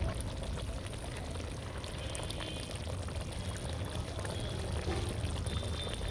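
Chicken palong curry made with cauliflower and spinach pours out of a pan in a steady, dense wet rush that runs unbroken the whole time, close and fairly loud with no talking.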